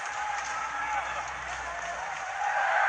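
A crowd cheering on Kenya at a rugby sevens match in Los Angeles, a broad distant roar and applause running throughout beneath a commentator's voice.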